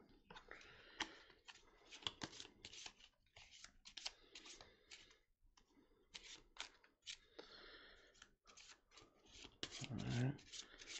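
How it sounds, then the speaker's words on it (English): Board game guard cards being shuffled by hand, repeated rapid riffling and rubbing bursts at close range, fairly quiet, with a brief voice near the end. "Give them a good shuffle."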